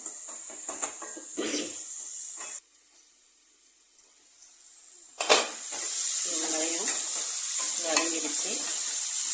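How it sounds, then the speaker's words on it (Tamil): Onions sauté in a hot pan, sizzling steadily with stirring and scraping, briefly quieter partway through before a louder, continuous sizzle returns, while a person talks over the cooking. "இந்த வெங்காயம் நல்லா வதங்கட்டும்"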